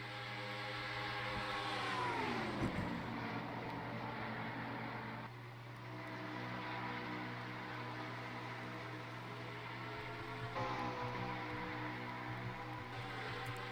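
Race trucks in a NRSL Jerky Pro Truck Series racing video game event at Texas drone steadily around the track, a continuous engine hum with pitch sweeps as trucks pass, moderately loud and without talk.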